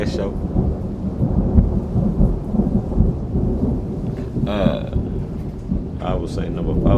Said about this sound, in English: Stormy night